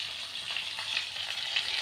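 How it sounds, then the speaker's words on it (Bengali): Bata fish fries in hot oil in a pan with a steady, even sizzle, close and fairly soft, with no voices. "তো বাটা মাছ ভাজা বসিয়েছি"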